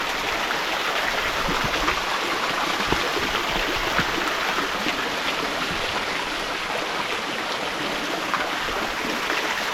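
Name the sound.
hot springs waterfall flowing into pool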